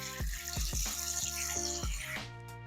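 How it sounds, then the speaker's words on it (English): Cold tap water runs steadily into a bowl of just-cooked eggs on a kitchen counter, a close, continuous splashing stream with a few sharper gurgles and knocks as it fills. "I just filled up a bowl with some cold tap water and I'm running it through until the eggs stop their cooking action"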